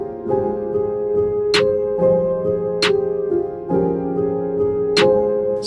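A UK drill beat produced in FL Studio plays loud and upfront, sustained melodic chords and low bass with crisp snare cracks landing at regular intervals, no voices.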